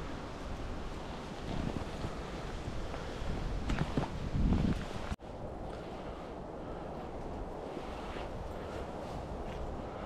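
Strong wind outdoors during pike fishing buffets the microphone in a loud, continuous roar with gusty swells, cut by a brief dropout midway before the blustering resumes.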